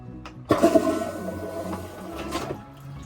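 A Dometic 320 RV toilet flushes with a single sudden rush of water, loud and close, that swirls and drains away over a couple of seconds.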